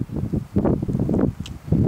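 Gusty wind buffets the microphone on South Sandia Peak in New Mexico's Sandia Mountains, rising and falling in low rumbling surges with faint rustling between gusts.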